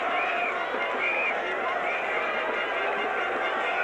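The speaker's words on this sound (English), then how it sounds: "And the crowd gathering in there now, mobbing over the pitch." A cricket crowd surges onto the pitch at Lord's after the 1975 World Cup final between Australia and West Indies, a dense, steady roar of shouting and cheering spectators with a commentator's voice over the top.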